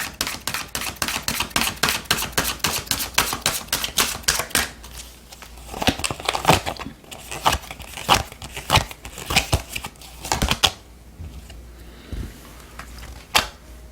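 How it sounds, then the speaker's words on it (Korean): Oracle cards being shuffled and drawn, a fast run of crisp card snaps and flicks that thins out after the first seconds into scattered slides and taps, close and fairly loud with no talk. "오라클 카드 한 장 더 보도록 하겠습니다"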